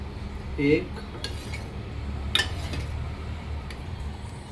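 A kadhai (Indian wok) and metal utensils clink and clatter as a spoon taps the pan, with a few sharp clinks over a low background hum, close and moderately quiet, with no talking.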